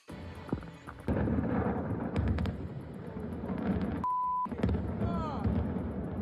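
Fireworks from a played video boom and crackle in heavy, sustained low rumbles with scattered sharp bursts, mixed with people talking over them throughout.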